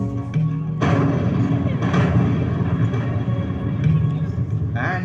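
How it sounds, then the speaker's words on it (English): A GSLV Mark III rocket lifts off with a continuous heavy roaring rumble and crackling thumps, loud and sustained throughout. "And we have liftoff."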